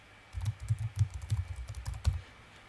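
Someone typing on a computer keyboard: a quick run of about a dozen close, crisp key clicks over roughly two seconds, with no talk.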